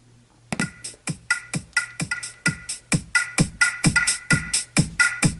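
Music plays from a pair of iLive indoor/outdoor speakers driven at maximum volume from a phone, a steady run of sharp rhythmic beats about twice per second with bright tonal layers, moderately loud and without talk.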